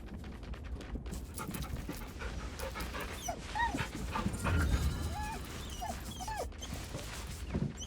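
A dog being petted in the Baldur's Gate 3 video game, panting steadily with small whimpers and yips throughout, close and clear.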